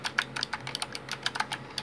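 Rapid typing on a Silvercrest mechanical RGB gaming keyboard with Cherry MX Red switches, a quick irregular run of sharp, close, clicky keystrokes with no talk.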